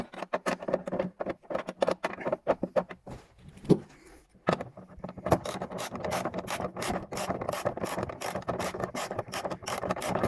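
Ratchet tool tightening a bar in the interior of an Opel Corsa A, rapid close clicking in bursts with a brief pause midway, then a sustained fast run of ratchet clicks, no talk.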